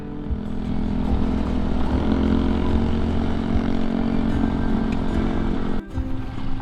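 A motorcycle rides over small river stones beside a river, its engine droning loud and steady with a brief dip near the end.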